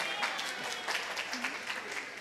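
An audience of many young people claps at a certificate ceremony for volunteer catechist trainees, producing a continuous wash of applause with faint talk mixed underneath.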